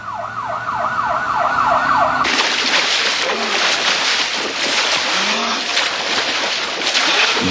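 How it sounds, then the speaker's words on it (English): A wailing ambulance siren sweeps up and down, then gives way to loud, continuous rushing noise with faint siren tones woven through it. "2 ambulances were dispatched immediately"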